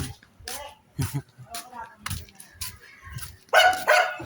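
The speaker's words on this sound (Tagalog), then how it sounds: "Bagong aso natin." A newly adopted dog barks in short, separate bursts, several sharp yaps spaced out over a few seconds with louder ones near the end, while a person talks to it between the barks.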